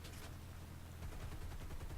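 Rapid, continuous 13 mm aircraft machine gun fire from a P-51D-5 in a video game rattles on without pause, a dense, distant-sounding burst of shots over a noisy background.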